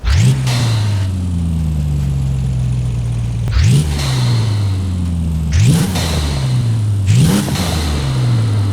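A Mercedes-AMG ONE engine with a sport turbo upgrade in Forza Horizon 5 revs sharply four times, each burst climbing then easing back to a rumbling idle between them, loud and close.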